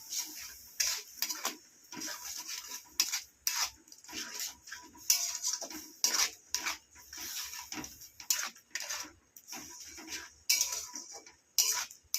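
Grated raw mango is stirred with chilli and turmeric powder in a bowl, giving off irregular clinking, scraping knocks of a utensil against the dish in short repeated bursts with brief pauses between.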